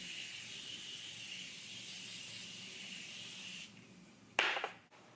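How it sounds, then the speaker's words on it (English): Morphe Continuous Mist setting spray hisses out in a steady, fine, close-up mist for several seconds, then trails off before a louder, brief final burst. "I'm gonna go in with some setting spray."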